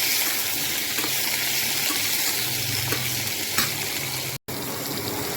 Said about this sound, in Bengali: এবার এগুলোকে একটু ভালো করে ফ্রাই করছি।